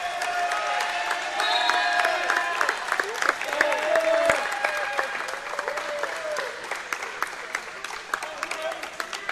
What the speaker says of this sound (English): As the crowd really picked up here.